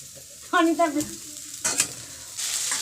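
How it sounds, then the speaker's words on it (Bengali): Soybean and potato curry cooks in a pan, soft sizzling and stirring sounds with a voice speaking briefly over them near the start and middle. "আর এদিকে রাত্রে রান্না করছি সোয়াবিন আলুর তরকারি"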